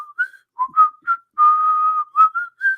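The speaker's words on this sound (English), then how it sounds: "he starts whistling" A clear melodic whistle, a tune of short notes and one longer held tone, close and fairly loud with no talking.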